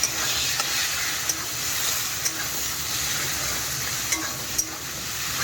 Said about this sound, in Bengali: এটার সাথে লাল করে নুন হলুদ দিয়ে এঁচোড়টাকে ভেজে নেবো